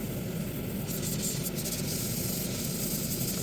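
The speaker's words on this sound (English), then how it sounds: "So when I get the spray right and super thin" A steady, even hiss of an airbrush spraying weathering paint onto a Rapido RS18u model locomotive runs continuously, close and unbroken, with no voices.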